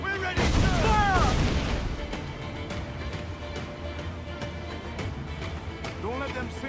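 Ship cannons fire in a naval battle in Assassin's Creed IV: Black Flag, a loud booming volley at the start followed by a sustained rumble, under shouting voices of the crew.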